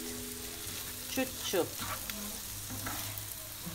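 Potatoes frying in a pan, a constant strong sizzle with a few brief stirring scrapes and a short spoken word over it.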